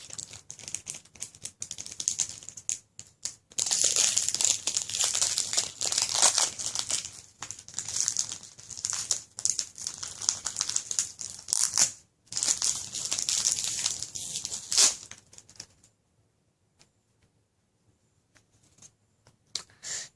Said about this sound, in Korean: 가위가 없습니다. 그냥 뜯도록 하겠습니다.